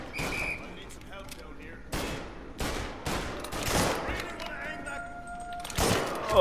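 Gunfire in Mafia Definitive Edition, a sequence of loud gunshot bursts a second or so apart with a few echoing cracks, while a player talks over the shooting.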